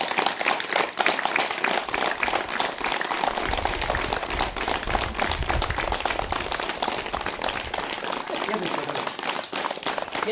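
An audience at a yoga session claps loudly and rapidly, a dense, continuous patter of many hands with voices mixed in throughout.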